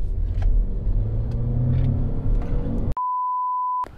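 A 2020 Honda Civic 1.5 turbo with CVT accelerates uphill on a mountain road, giving a low, steady engine rumble for about three seconds before a sharp electronic beep tone cuts in.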